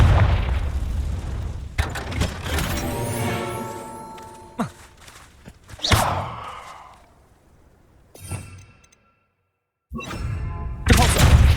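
Fiery Confringo blast spells from Hogwarts Legacy burst in a busy sequence of booms and crackling whooshes, with sharp impacts and swelling roars spread over several seconds and a brief silent gap before a final loud burst.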